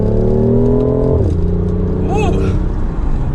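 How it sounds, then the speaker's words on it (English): BMW i8 Roadster in sport mode accelerating in second gear, its synthetic exhaust note played through the cabin speakers as a loud, rising engine drone that drops at a shift, with a steady road rumble under it. "It's kind of cool how you can hear the exhaust note coming through the speakers."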